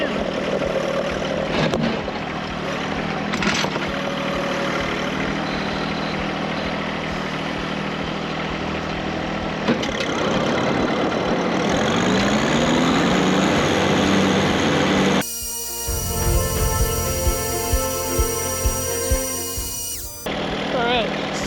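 Engine idling during a hydraulic oil temperature test at about 105 degrees, a steady close mechanical hum with a shifting tone partway through and a harsher buzzing stretch near the end.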